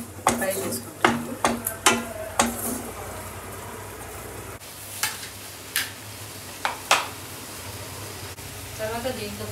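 A ground onion-tomato spice mix goes into melted butter in a pan for paneer butter masala, with several sharp spoon knocks against the pan followed by bursts of sizzling and stirring.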